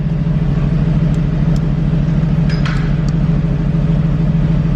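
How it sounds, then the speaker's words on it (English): A 2018 Aston Martin Vantage engine idling loud and close with a deep steady rumble, a faint brief blip of revving partway through. "Normal, Sport Plus, give it a tiny rev."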